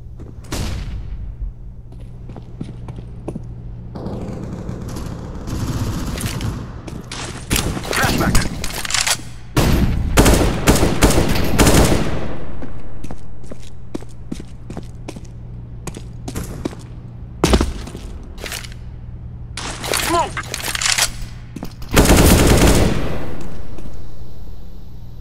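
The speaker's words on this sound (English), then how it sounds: "Throwing flashbang." Shooting video game gunfire comes in bursts of rapid automatic shots, with single cracks and heavy booming blasts from grenades and flashbangs, loud and close, rising and falling across the clip.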